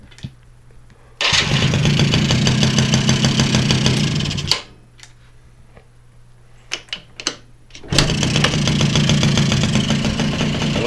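A Polaris Predator 50 youth ATV's small engine starts abruptly and idles with a buzzy, rapid putter, cuts off, then after a few clicks and knocks fires up again and idles loudly near the listener.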